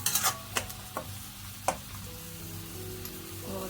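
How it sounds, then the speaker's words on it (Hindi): Spices frying in a pan, a quiet, steady sizzle broken by a few sharp clicks of a utensil, with a faint background hum. "तो मसाले फ्राई हो गए हैं"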